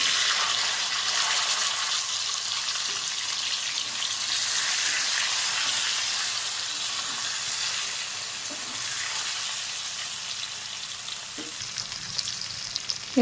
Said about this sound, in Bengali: মাছ ভাজা তেলের মধ্যে গাঠি কচুগুলো দিয়ে একটু ভেজে নেব।